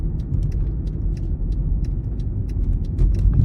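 A 2008 Mercedes GL550 with its automatic transmission shifting up through the gears, heard as a steady low car rumble with faint ticking over it and no talk.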